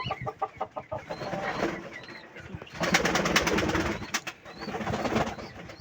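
Pet pigeons bathe and coo, with soft rhythmic cooing and fluttery splashing and scuffling, close by and moderately loud, with no talk.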